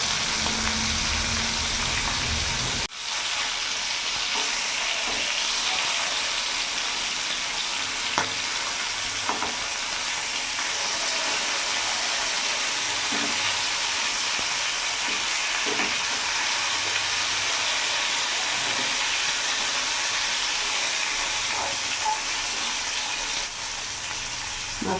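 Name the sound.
bhola fish frying in oil after being flipped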